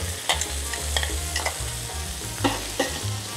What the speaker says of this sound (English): We stir fry the squid.